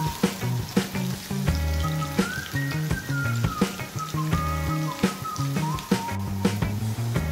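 Red onion sautéing with garlic in a pan for pork humba gives a steady, close sizzle with soft stirring clicks, under continuous background music.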